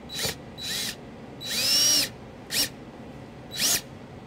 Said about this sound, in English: we're going to use the provided sheet metal screw through the eyelet into the hole to secure our ground.